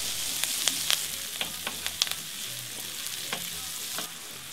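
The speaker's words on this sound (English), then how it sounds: "Then I cooked the mushrooms until they were crispy" Mushroom ribbons frying with garlic and shallots in a pan, seasoned with rosemary and thyme, making a loud steady sizzle broken by crisp spitting pops and light stirring scrapes, close and without speech.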